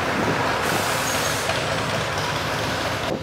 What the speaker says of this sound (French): subir le bruit des camions et des voitures pendant plus d'un mois